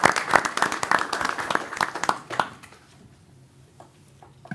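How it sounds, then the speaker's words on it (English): A small crowd at a village board meeting claps for a new local business, a dense burst of applause that tapers off after a couple of seconds, followed by quiet room tone and a few stray thumps. "I think we owe them a round of applause"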